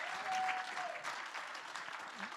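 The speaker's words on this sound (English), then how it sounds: "Round of applause for Mira." Audience applause after a TED-style talk, a short burst of many people clapping in an auditorium, fairly faint and distant, steady throughout.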